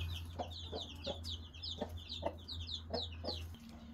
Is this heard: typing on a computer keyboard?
no